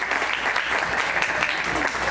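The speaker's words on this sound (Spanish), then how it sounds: "les pido un aplauso para nuestros invitados" Audience applause for the guests at a public forum on the Corredor Chapultepec, a short, steady wash of clapping from a modest crowd with a voice faintly underneath.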